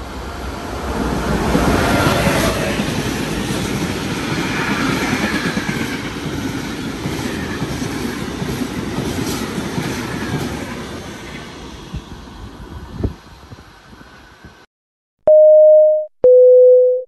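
A train roars through platform 2 at Anzola Emilia station, loud and close with a rushing rumble that fades away, followed by two electronic chime tones at the end.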